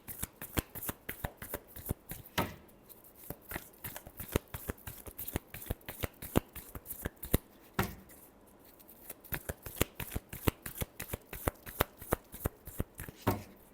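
Tarot cards being shuffled by hand, a fast run of crisp riffling slaps and flutters in quick bursts with short pauses, close and fairly quiet, with no talking.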